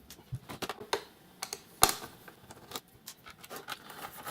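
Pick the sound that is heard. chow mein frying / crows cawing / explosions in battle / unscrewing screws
unscrewing screws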